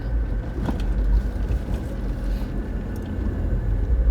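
A 1995 Mitsubishi Pajero in four-wheel drive rolls along a rough, damaged village road, its engine a steady low rumble with faint rattles throughout, no voices.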